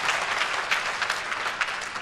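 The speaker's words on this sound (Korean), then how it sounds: "한점한 점마다 뜨거운 박수 보내주고 계십니다" Spectators at a professional billiards match fill the hall with steady, even applause, a dense wash of many hands clapping at moderate distance.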